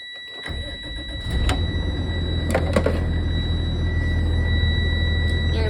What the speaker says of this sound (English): Okay, then start your bus.